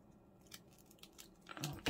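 Scissors cut a paper envelope, making a few faint, close snips and paper rustles that grow into a louder crisp cut and crinkle at the end.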